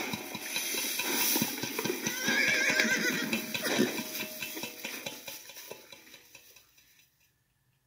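A horse whinnies amid a busy clatter of hooves and knocking, all fairly close, before the noise thins out and falls silent near the end.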